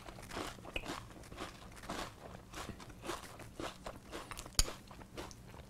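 Someone eating Lucky Charms Frosted Flakes cereal with milk, with close wet crunching and chewing in a loose repeating rhythm and one sharper crack near the end.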